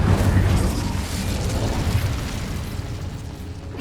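Incendio fire spell cast in Hogwarts Legacy inside a cave: a loud whooshing, roaring burst of flame with rumbling low end that starts strong and slowly fades over a few seconds, with no talking.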